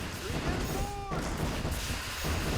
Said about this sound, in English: Bombard towers are just stunning the crap out of these guys.